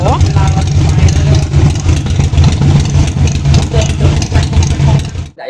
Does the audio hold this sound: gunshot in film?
no